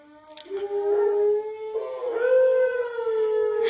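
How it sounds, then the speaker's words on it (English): Dogs howling nearby in a home, long rising and wavering howls that overlap in two or three voices, fairly loud and heard alone without talk. "You can hear my dogs."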